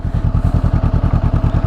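Exhaust of a new parallel-twin motorcycle idles with a loud, close, lumpy rumble, pulsing in an even beat throughout.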